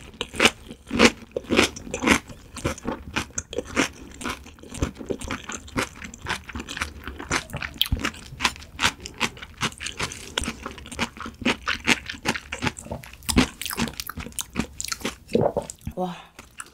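Someone eats laver, white kimchi, sea urchin and tuna up close, with dense wet chewing and crisp crunching bites repeating steadily throughout, over occasional soft vocal sounds.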